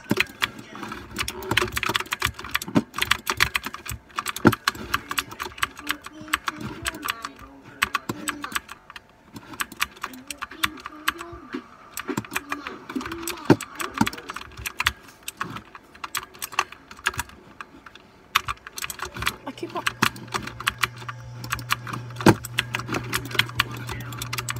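Rapid, steady clicking of keys on a computer keyboard continues for the full stretch, close and moderately loud, with a low hum entering near the end.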